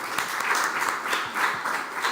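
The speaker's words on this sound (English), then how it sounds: "Can everyone give them a round of applause?" An audience applauds a panel at a youth leadership event, with dense, steady clapping from many hands lasting a couple of seconds at a fairly strong level.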